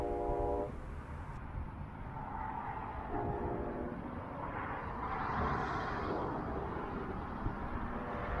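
A Brightline passenger train runs along the track near Cocoa Junction, a steady low rumble of wheels and cars rolling past with a brief horn blast at the start, heard from a moderate distance.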